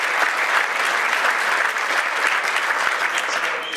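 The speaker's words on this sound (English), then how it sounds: "Let's keep the applause going for Ben Sass," Sustained audience applause fills a Senate candidate forum hall, steady dense clapping from a crowd that holds level throughout without letting up.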